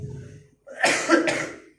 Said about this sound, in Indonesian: Mohon maaf belum batuk benar.